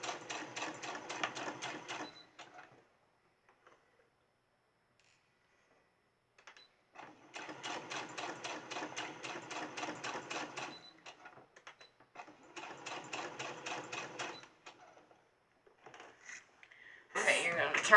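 A sewing machine basting fabric for a crib hanging organizer runs in three rapid stitching bursts of a few seconds each, separated by quiet pauses, close and fairly soft.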